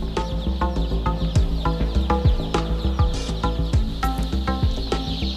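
Masses of newly hatched chicks on an organic farm peep and cheep in a dense, continuous chorus of rapid overlapping chirps, close and steady with no talk.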